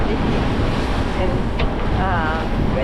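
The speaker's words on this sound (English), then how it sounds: "we're getting hit on the bow, starboard side, and we're getting pretty good splashes" Waves hitting the starboard bow of a boat crossing open water, a steady loud wash of spray and rushing wind with splashes throughout and no speech.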